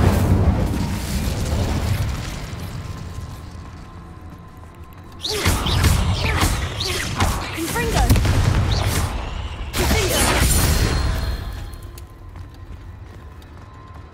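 Spell bursts of the Incendio fire charm in Hogwarts Legacy erupt in two loud roaring whooshes over a rumbling game soundscape, each flaring suddenly and trailing off.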